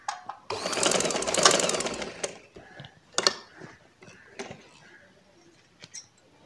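A sewing machine runs in a short burst of fast stitching on a baby frock, followed by scattered clicks and light handling noises of fabric and machine parts.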